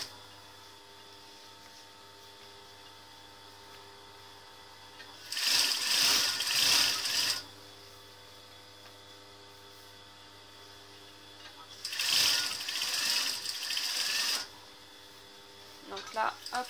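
A sewing machine stitches backstitches on a fabric pouch in two short bursts of rapid mechanical whirring, separated by a quieter stretch of background hum.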